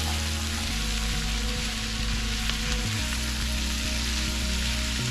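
Cabbage and chicken sizzle steadily in a pan while being stirred, a dense continuous frying hiss with occasional scraping and clatter from the stirring, close and fairly loud with no talking.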